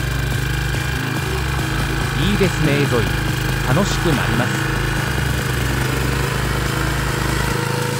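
Small Iseki Land Mini 30 cultivator engine running steadily close by with a constant low drone, tilling with a homemade ridge-forming attachment, while someone talks briefly over it.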